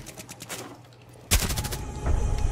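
Gunfire in a first-person shooter game: a sudden loud burst of rapid shots begins partway through after a quieter stretch of game ambience, continuing as a dense rattle to the end.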